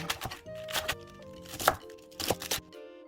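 A knife slices radish into thin square pieces for nabak water kimchi, giving a handful of crisp, irregular cuts on a board over a faint tonal background.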